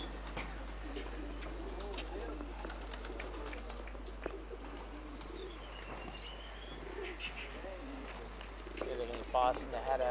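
Pigeons coo and flutter nearby as a flock settles down at a pigeon-keeping spot beside a flowing canal, with soft chirps mixed in, someone talking throughout, and a steady low hum underneath.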